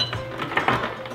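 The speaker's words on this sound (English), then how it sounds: "Our onions are sizzling." Onions sizzle in olive oil in a cast iron pan, a steady soft hiss with a few faint metallic clinks from the pan or utensils, close and fairly quiet.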